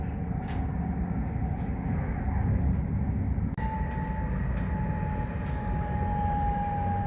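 A Greater Anglia train running on the rail line, with a steady loud rumble of wheels and motors and a sustained whine that rises partway through, heard continuously from inside the carriage.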